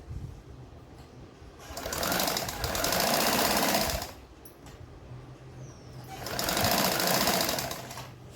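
A sewing machine double-stitches a katori blouse in two sustained runs of rapid, even needle chatter, with a brief quiet pause between them and faint background hum.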